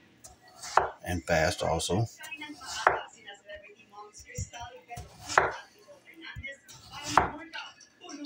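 A knife slices washed potatoes into thin slices on a board, giving crisp repeated cuts and taps at an uneven pace, with a person talking briefly in between.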